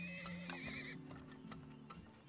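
Horse whinnies and clip-clopping hooves from the prospecting video game Turmoil, a high neigh over steady rhythmic hoofbeats and faint mechanical clatter, quiet and without speech.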